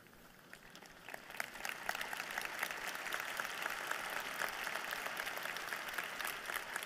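A women's gathering audience applauds: soft, distant, continuous clapping from a large crowd that swells slightly and holds steady, faint overall with no speech.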